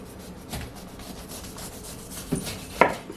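A knife saws through the tough base of a whole pineapple, giving a few soft rubbing, rasping strokes that end in two sharper crunches near the close.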